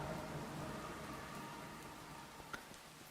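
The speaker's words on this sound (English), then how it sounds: "us sitting in the rain" Steady rain falling in a Minecraft modpack world, a soft continuous hiss at low volume with a faint tap near the end.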